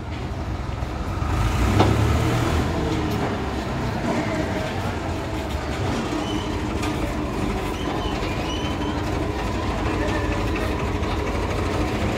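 A farm tractor engine runs loud and continuous with a steady low rumble and some rattling, heavy and close throughout, with a brief swell near the start and no talk.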